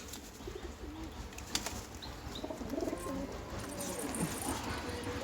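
A pair of Rajshahi Giribaj pigeons, male and female, coo softly with wavering, throaty calls over a constant background hiss, with a faint flutter of wings partway through.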